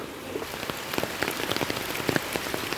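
Steady rain falls on surfaces outdoors, a continuous hiss of fine drops dotted with sharper individual taps and splashes, close and even throughout.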